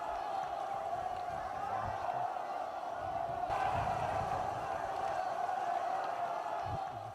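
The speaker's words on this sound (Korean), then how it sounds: "답사행군 대원들이 터쳐올리는 만세의 함성이 혁명의 성산 백두산의 하늘가에" Massed shouts of hurrah from expedition members atop Mount Paektu, a sustained distant roar of many voices blended with steady wind-like noise, fairly faint and unbroken.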